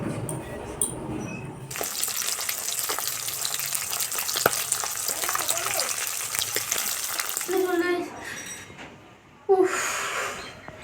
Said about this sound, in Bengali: তুমি যা মাছ ভাজাটা দেখ, মাছ ভাজাটা বসিয়েছি,